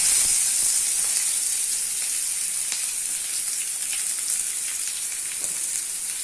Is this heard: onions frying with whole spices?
yes